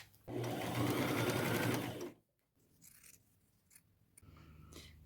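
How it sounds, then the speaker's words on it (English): A sewing machine runs a fast, loud continuous stitching burst for about two seconds, sewing two thrifted fabric edges together with a half-inch seam. It then stops, leaving quieter rustling, handling sounds and faint snips. "sew these two edges together, a 1/2 inch seam allowance"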